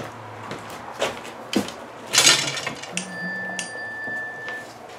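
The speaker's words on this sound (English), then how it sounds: "That's just my phone." A phone text-message notification chimes once during a bow-shooting game with toy army men, a short steady electronic tone sounding over faint room noise and a few knocks, with no talking.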